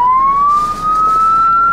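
A vehicle's electronic emergency siren, fitted alongside flashing lights and an air horn, sounds up close as one loud, steady tone slowly rising in pitch throughout.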